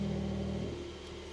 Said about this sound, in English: I'm just going to start the car up